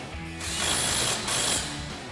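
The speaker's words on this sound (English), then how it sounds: "we'll tighten this nut with our 12mm ratcheting wrench." A 12mm ratcheting wrench tightens a nut on a Tacoma suspension lift install, giving a close, loud run of rapid pawl clicks in two quick bursts.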